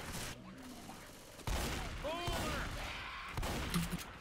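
Gunfire from the Left 4 Dead 2 video game in a versus match, loud bursts and shots overlapping with crashes and game noise, continuing throughout under players' voices.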